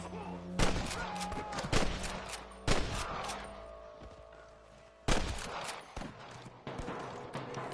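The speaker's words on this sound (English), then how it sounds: "Hear more gunshots." Sharp gunshots in the video game Red Dead Redemption crack out in irregular bursts, several loud volleys with rattling echoes between them, interspersed with game sound effects.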